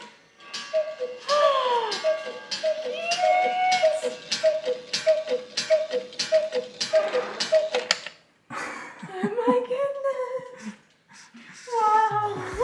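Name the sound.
cuckoo clock ticking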